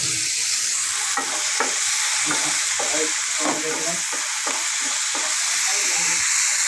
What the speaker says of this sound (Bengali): এইভাবে ঘন ঘন করে আমরা কিছুক্ষণ নাড়াচাড়া দেবো